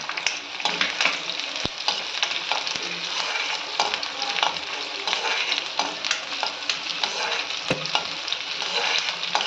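Ginger sautéing in oil for a fenugreek seed gravy makes a loud, continuous sizzle and crackle, with a couple of sharp clicks from the pan.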